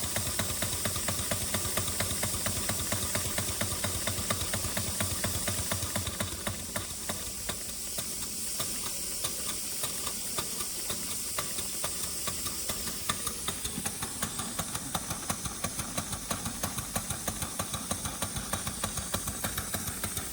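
A large authentic mill steam engine named Tina runs on steam from a boiler, giving a fast, steady chuffing beat with hiss and mechanical rattle, loud and close throughout.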